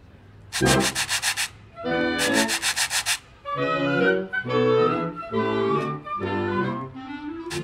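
A municipal concert band plays Leroy Anderson's Sandpaper Ballet, with sandpaper blocks rubbed in loud rhythmic scraping bursts over the tuneful ensemble.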